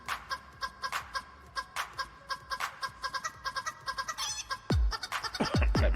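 A chicken clucking sound effect playing during a Farming Simulator 19 livestream: a quick, repetitive run of clucks that grows busier and louder toward the end, with a couple of low thumps.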